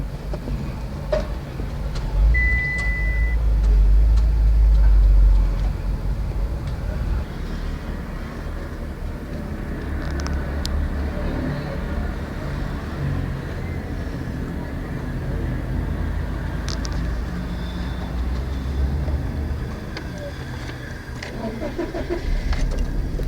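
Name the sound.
Mitsubishi Lancer engine running after ECU programming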